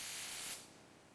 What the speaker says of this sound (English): Compressed air clears the microscopic dust, ensuring a perfect bond for the jewelry setting later